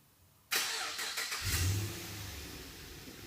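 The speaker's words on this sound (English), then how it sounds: "There we go. Car started." A Holden VE Commodore engine, started by remote start, cranks and catches with a loud burst, then settles into a steady, close idle with a low rumble.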